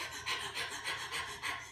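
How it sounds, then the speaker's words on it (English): Rhythmic panting breaths, as demonstrated for labor in a prenatal breathing exercise, come as quick, close, evenly spaced puffs of air, about two per second, with no talking. "people just do this type of panting breath when they are in labor"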